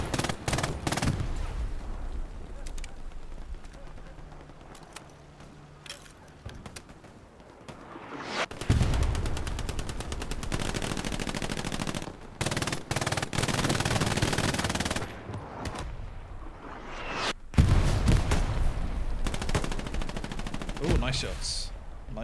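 Gunfire in the World War II shooter Hell Let Loose: sustained machine-gun bursts and rapid rifle shots, loud and close, with dense volleys and brief lulls, alongside occasional distant blasts and faint voices.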